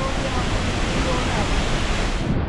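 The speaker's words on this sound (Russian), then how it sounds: "Тут от водопада такие брызги идут" Spray and roar from a Yosemite waterfall: a loud, steady broadband rush of falling water heard up close without a break.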